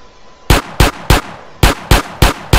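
Gunfire in the video game GTA San Andreas: seven sharp, loud gunshots in a fairly even rhythm, each a sudden blast with a short decay, over a quiet game background.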